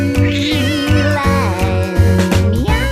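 A pet cat meows repeatedly in close, loud, drawn-out cries, several in a row with short gaps, over a steady low hum.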